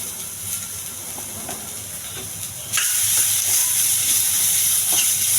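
Onions and green chillies fry in a pan with a steady hiss that suddenly swells into louder sizzling partway through, close and continuous.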